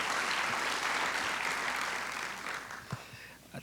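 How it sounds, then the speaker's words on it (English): An audience breaks into loud, sustained applause that slowly tapers off, leaving a few scattered claps at the end. "Give him another round of applause."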